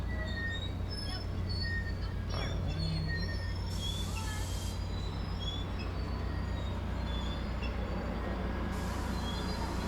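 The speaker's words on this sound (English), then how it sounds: "Train is coming to a stop." A Caltrain gallery-car train slows to a stop at a station platform, with a steady low rumble, high squealing wheel and brake tones, and a hiss of air near the end.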